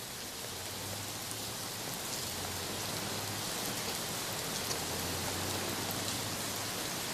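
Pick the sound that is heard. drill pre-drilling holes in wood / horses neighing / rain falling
rain falling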